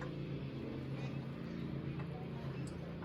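A 5.5 HP Briggs and Stratton go-kart engine idles nearby in a steady, low, even putter while it warms up, with no other sound standing out.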